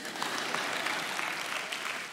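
Steady applause from a crowd, a dense continuous patter of many hands clapping at moderate volume with no voices over it.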